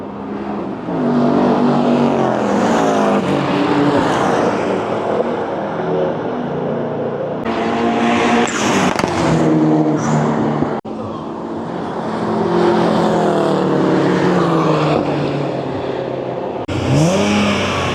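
BMW Z4 and BMW M4 race car engines revving on the Biķernieki track, loud rising and falling engine notes in repeated surges, close by, with some talk mixed in.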